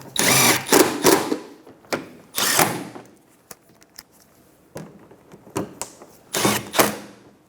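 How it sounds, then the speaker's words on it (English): Tightening 10mm bolts on a Toyota Highlander washer reservoir: short bursts of a ratcheting or power-driver whir, several separate spurts with quiet gaps and small clicks between them, close up. "Now I'll go down and tighten down my 10mm bolts."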